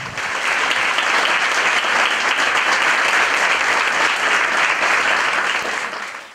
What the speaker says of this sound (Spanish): Un fuerte aplauso para las doctoras.